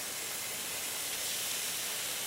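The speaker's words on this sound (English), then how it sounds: "There it goes, sizzling" Chicken thighs sizzle on a grill, a steady bright hiss that holds evenly throughout without a break.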